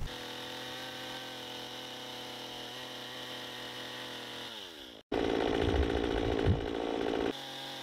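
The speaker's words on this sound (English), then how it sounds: "I'm just going to do this with a chainsaw." A chainsaw idles steadily, cuts out for a moment, then roars back louder at full throttle as it bites into a round log floor joist to cut a tenon, up close and alone.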